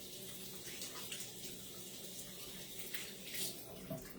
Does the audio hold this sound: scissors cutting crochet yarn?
no